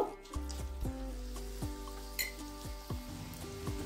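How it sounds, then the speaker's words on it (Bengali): Close, bright sizzling of egg-battered cauliflower pieces frying in oil, with a few soft clinks and scrapes of a utensil turning them in the pan, no one speaking. "সবগুলোকেই একইভাবে ভেজে নেব।"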